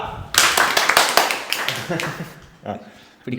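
Applause from an audience greeting a singer invited on stage to perform an English song, a burst of dense clapping with loud voices and cheering mixed in, then a couple of brief sharper claps near the end.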